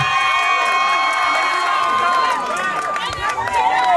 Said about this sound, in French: Est-ce qu'on peut applaudir le fort?